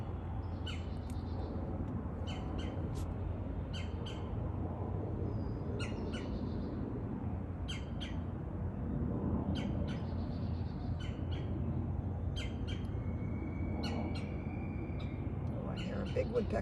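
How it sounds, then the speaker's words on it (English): A large woodpecker calls repeatedly in the background outdoors in Virginia during a solar eclipse, with sharp, fairly faint bird calls over a steady low rumble and nearby talk. "Oh, I hear a big woodpecker in the background."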